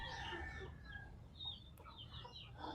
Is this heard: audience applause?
no